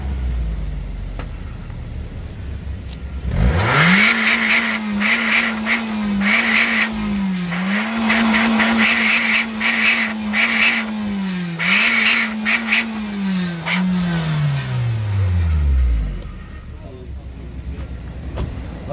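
A Suzuki Swift engine revs up and holds a steady drone, dipping and rising a few times before winding down, close and loud, with someone talking over it.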